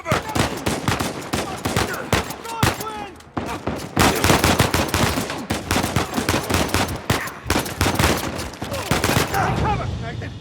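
Uncharted 4 firefight with dense, rapid gunfire almost nonstop for the whole stretch, loud and close, with characters shouting over the shots.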